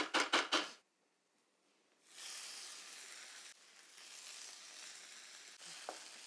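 Tomatoes drop into a hot pan with tomato paste and spices, opening with a few sharp clatters, then a short hush before a steady, soft sizzle of frying settles in, close and fairly quiet.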